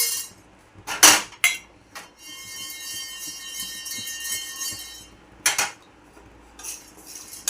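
Triphala spice being dry roasted in a metal pan: a few sharp clatters and scrapes of a spatula against the pan, separated by quieter stretches with a steady faint hum.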